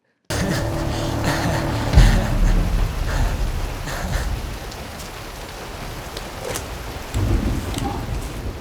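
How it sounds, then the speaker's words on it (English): Heavy rain pours down in a film scene, a dense continuous hiss with a deep rumble of thunder early on and scattered louder spatters throughout. "I love the rain effect with Nick in the foreground"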